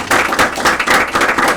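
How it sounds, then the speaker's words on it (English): Audience applause in a room at a dedication event honoring Tim Coco, a brief burst of dense clapping from many hands that stays steady and fairly loud throughout. "why don't we give Tim Coco a round of applause for doing this"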